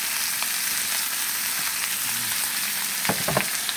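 Food frying in a pan, a dense continuous sizzle with scattered crackles and a few sharper pops near the end, heard close with no talk.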